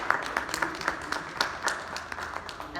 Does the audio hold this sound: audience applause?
yes